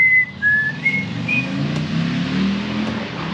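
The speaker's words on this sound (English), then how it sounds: "this is where you play the Jeopardy song" A few short whistled notes of the Jeopardy theme rise above the low, steady idle of a Honda XL175 dual-sport motorcycle being tuned with a Mikuni carburetor and pod filter; the engine rumble continues alone afterward.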